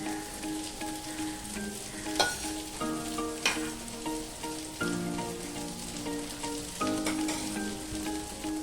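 White cooking oil heating in a wok over a gas stove gives a steady crackling, sizzling hiss with scattered sharp pops, while a tonal hum sounds faintly beneath it.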